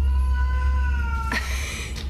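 A female cat meows once, close by and fairly loud, with a short second cry after it. A low steady hum runs underneath throughout.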